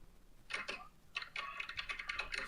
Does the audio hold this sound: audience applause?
no